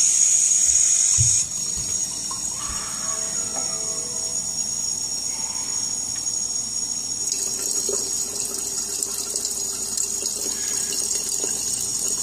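High-pH water runs steadily from an alkaline water ionizer tap into a glass, a continuous hiss and trickle heard up close, with brief clinks and handling noises as the flow fills the glass.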